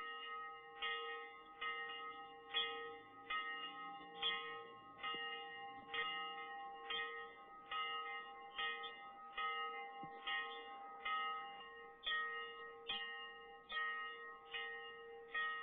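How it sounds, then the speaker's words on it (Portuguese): A farm chapel bell tolls steadily, about once per second, each ringing strike overlapping the decay of the last in a long, even sequence heard alone at moderate distance. "o padre tocava o sino da fazenda, ato que hoje é repetido todas as quartas-feiras"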